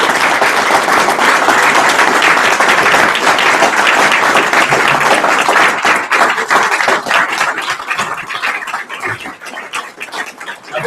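Sustained audience applause at a university award presentation for the Black Bear Award, loud dense clapping that fills the room and tapers slightly toward the end.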